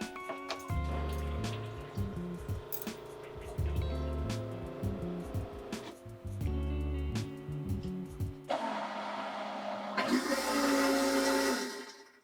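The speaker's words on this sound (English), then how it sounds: "every morning, I am so happy that I can flush at the press of a button" A push-button electric toilet on a sailboat flushes with a loud mechanical whir and rush of water near the end, after a stretch of music and clattering.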